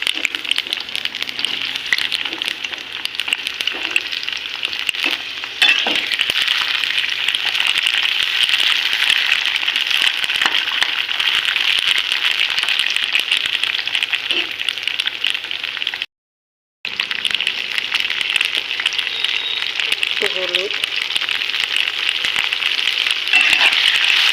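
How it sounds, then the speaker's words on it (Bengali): Loud, continuous sizzling of eggplant frying in hot oil in a wok, steady throughout with a brief pause near the end. "কড়াইতে তেল দিয়েছি বেগুনটা দিয়ে দিচ্ছি"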